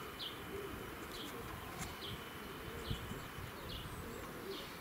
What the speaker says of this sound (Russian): А это дикие голуби у меня тут.